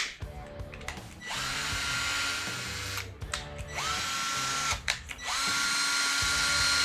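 Two Ryobi drill drivers, a 1/2 inch and a 3/8 inch model, run in turn, each trigger pull spinning the motor up to a steady whirring whine, with short stops and restarts between runs.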